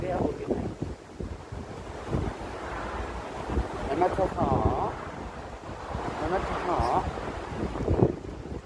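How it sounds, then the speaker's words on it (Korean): Gusty wind blows at the Han River, rumbling and buffeting the microphone in uneven surges for several seconds, with no voices on top. "어우, 바람."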